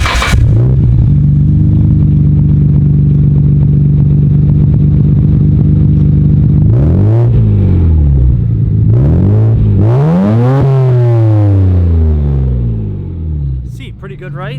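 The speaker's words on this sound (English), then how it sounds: "So go ahead and start it up and rev it for you guys." A stock-exhaust Nissan R32 GT-R engine starts, settles into a steady loud idle, then takes several sharp revs that rise and fall before dropping back, recorded close up with no talking.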